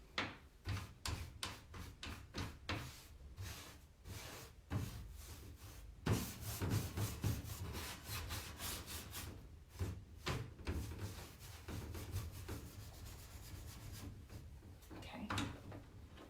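Paint being rubbed back on a vintage wooden wardrobe layered with six colours: repeated scraping and rubbing strokes, close and moderately loud, with occasional knocks of wood, continuing steadily with no talk over it.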